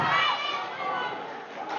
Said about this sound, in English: the crowd enjoys that